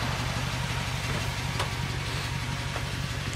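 A truck engine with a straight-pipe exhaust idles in cold weather, a loud, steady low rumble that stays even throughout with no revving.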